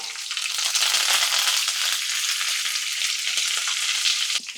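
Chana dal, urad dal, green chilli and curry leaves fry in hot oil, giving a steady, close, bright sizzle with scattered small crackles throughout and no voices.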